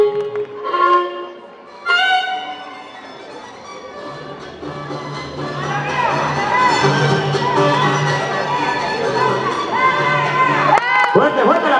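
A crowd cheers and shouts loudly and steadily after a few brief voices, with a sustained roar of many people filling the space.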